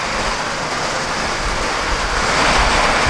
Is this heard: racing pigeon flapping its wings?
no